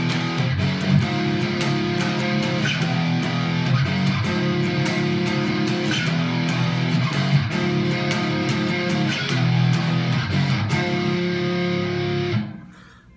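Palm-muted electric guitar riff, played with distortion as chugging repeated low notes that open into held chords, loud and close, ending abruptly with a short fade to quiet; no talk.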